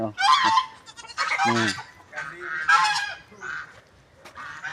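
Geese honking loudly and repeatedly on a small farm, several birds calling in overlapping bursts close by.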